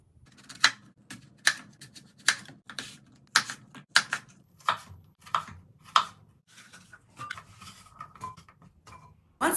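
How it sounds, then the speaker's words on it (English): A knife dices apples into small bite-sized pieces on a cutting board, sharp chopping knocks landing in an uneven rhythm, close and crisp, followed by softer scraping and shuffling near the end. "dice the apple into small bite-sized pieces and transfer the diced apple into a bowl and repeat the process"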